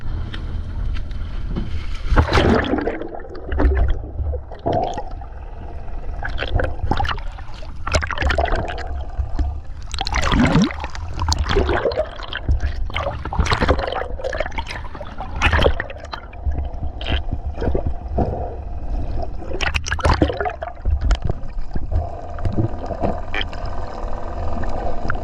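Someone swimming underwater in the sea, heard as loud, irregular surges of bubbling and rushing water with muffled low rumble in between, no talking.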